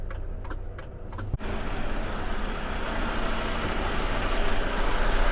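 A lorry reverses to turn around on a road in Yorkshire, its engine a steady, fairly loud rumble that swells gradually, with a single sharp knock near the start.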